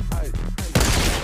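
Gunfire in the shooter game Creative Destruction, a burst of loud shots fired through a wall, with player voices talking over the action.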